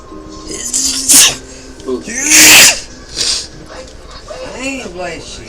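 Sneezes burst out loud and close in a video game scene, a big one in the middle with smaller snorts and voices around it.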